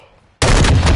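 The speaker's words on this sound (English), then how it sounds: "A sniper got me." A single loud gunshot from a sniper rifle in a video game bursts in abruptly after near silence, close and sustained with a ringing tail.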